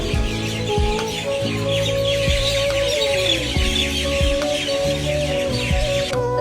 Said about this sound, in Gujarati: અહીંની એક ખાસ વસ્તુ આ બર્ડ્સનો અવાજ, જે એટલી મનને શાંતિ આપે છે